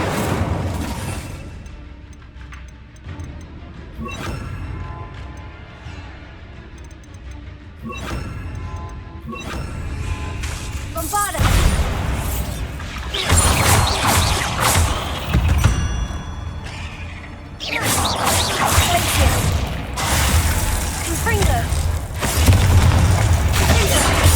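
Confringo and Incendio spell blasts in Hogwarts Legacy, loud booming crashes and bursts repeating through the scene, with shattering debris and rumbling impacts building toward the end.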